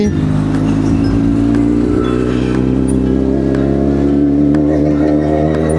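A motor vehicle's engine runs loud and close the whole time with a steady, droning hum while the vehicle is being moved.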